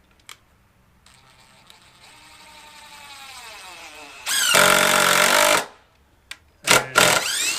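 A DeWalt impact driver sinks a long screw with a loud, dense rattling burst lasting about a second, followed by a short second burst, set apart by quieter clicks and a faint motor whine.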